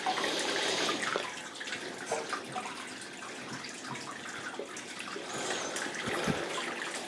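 Water running through a malt bed by gravity in a Brewtools B80 brewing system with a 15 kg malt bill, a steady rushing trickle and splash that carries on throughout at moderate level with no voices.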